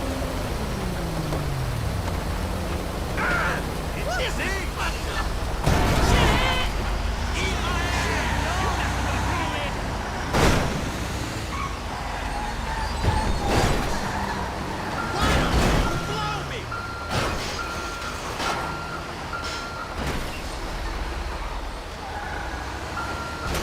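A truck in GTA Online drives with a low engine rumble and intermittent thumps, and a faint reversing beep sounds partway through. Steady game ambience continues underneath.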